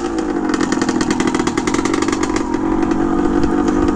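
A 1978 Harley Davidson MX250 motorcycle drives by on a road, its engine buzzing in a steady, rapid pulsing drone that stays loud and close, rising slightly in intensity toward the end.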